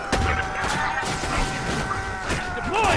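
A deployed sentry turret in a video game fires a fast, steady stream of clattering shots mixed with crashes and electronic whines, loud and close, while someone talks.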